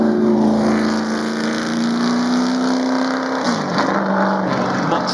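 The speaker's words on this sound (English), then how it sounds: "Away goes Stephen Hepworth driving the Hepworth-Ferguson hill climb car," The Hepworth-Ferguson hill climb car, known as the Sandblaster Special, roars loudly at a Goodwood hill climb shootout, its engine note rising steadily through one long gear before a sharp shift and renewed pull as it drives away.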